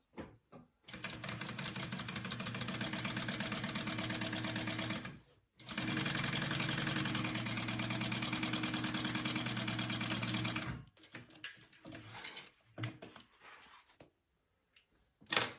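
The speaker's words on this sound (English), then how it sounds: "I'm just going to sew them along the top edge." A sewing machine stitching fabric slip pockets, right sides together along the top edge, runs in two long, loud, steady bursts of rapid needle chatter separated by a short pause, followed by quieter handling clicks and fabric rustle.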